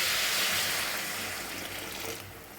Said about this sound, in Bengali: এখন গরম জল করে রেখেছি, সেই গরম জলটা দিয়ে দেব।